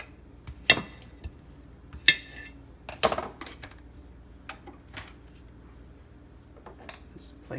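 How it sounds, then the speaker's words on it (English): Potatoes for a baked seafood boil being sliced and set in a pan, with several sharp knife and metal clacks spread irregularly, close by, between quieter pauses, with someone talking. "I'm going to slice my potatoes up because they're rather large"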